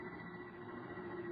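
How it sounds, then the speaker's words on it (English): Generators building up power for a remote-controlled atomic fission motor during a test, heard as a steady, sustained electrical hum with a bright tonal line, continuous and fairly faint throughout. "The sound you hear is our generators here"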